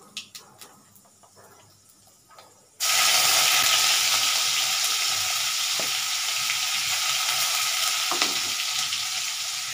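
Garlic and fennel seeds hit hot oil in a pan, bursting into a loud, continuous sizzle after a few quiet clinks, then frying steadily without pause.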